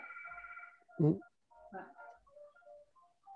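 A telephone rings with a warbling electronic tone for under a second at the start, then people talk nearby with fainter tonal chirps under their voices.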